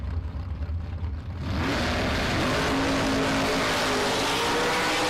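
Drag racing cars launch side by side down the strip, one of them a Mustang: a low engine idle breaks into a loud, sustained full-throttle roar that fills the rest of the run.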